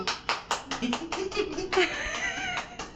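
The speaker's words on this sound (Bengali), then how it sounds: "হাততালি" A short run of hand claps, about ten quick claps in a steady rhythm, close by, with people laughing and talking over them.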